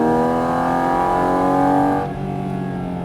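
A Porsche GT4 RS being driven on a circuit, its engine revving high and rising steadily as throttle comes back on, then dropping briefly before pulling again, loud and close with no talk.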